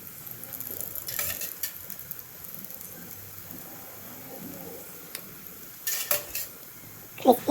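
Sarvapindi, a Telangana rice flatbread, frying in oil in a pan with oil poured into holes, faint sizzling under scattered clinks of utensils and a few louder scrapes and knocks near the end.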